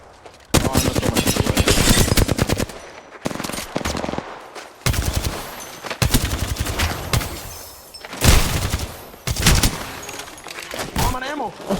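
Rapid automatic gunfire and shots from the battle royale video game Apex Legends, loud dense bursts filling nearly the whole stretch with brief gaps between volleys, and a player's voice faintly underneath.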